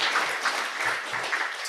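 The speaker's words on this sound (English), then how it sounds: "Let's give another round of applause for our presenters and moderator" Brief applause from an audience at an international guest lecture on city logistics, steady broadband clapping filling the short moment, moderately loud and without talk.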